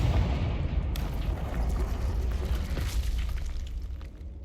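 Confringo blasting spell explosions in the Hogwarts Legacy video game, loud booming blasts over a dense rumbling battle din, with a sharp burst about one second in.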